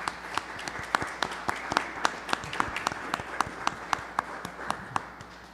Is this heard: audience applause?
yes